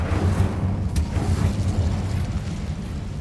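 A low, rumbling roar of conjured flame from the Incendio fire spell in the wizarding action game Hogwarts Legacy, steady and fairly loud with a brief crackling burst near the start.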